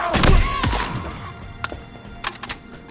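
Sharp thunks and clicks of weapon ammo refilling in the Halo Infinite PC campaign, a few brief hits spread unevenly over a busy game background.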